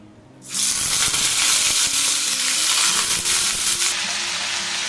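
Mutton hits a hot pan for mutton salan and erupts into a loud, steady sizzling hiss that holds close and strong for several seconds, with no voices.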